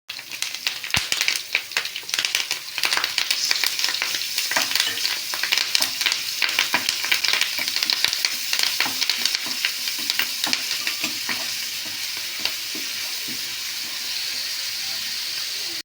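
Ginger garlic paste fries in hot oil in a pan, a dense loud crackling sizzle with rapid spattering pops and stirring that eases into a calmer, steadier hiss over the last few seconds.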